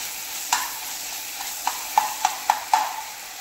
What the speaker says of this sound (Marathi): बटर घालून घेते आणि यामध्ये हिरवी मिरची जी आपण बारीक चॉप केली होती तेही छान अशी परतवून घ्यायची आहे